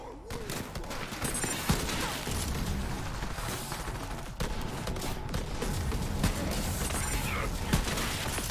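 Sniper rifle shots ring out in Borderlands 3 amid a dense, continuous battle din, with sharp individual reports scattered through loud overlapping gunfire and a voice speaking at times.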